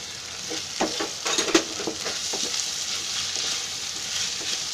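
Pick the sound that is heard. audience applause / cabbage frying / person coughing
cabbage frying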